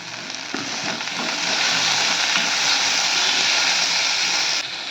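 Onion, garlic and karonda berries saute in a pan with a steady, close sizzling hiss that swells slightly midway and runs continuously, with faint stirring scrapes.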